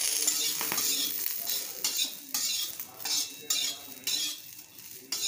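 Sweet corn roasting with a spoonful of oil, stirred briskly: rhythmic metallic scrapes and clinks of a spoon against the pan over a light sizzle, close by and with no voices.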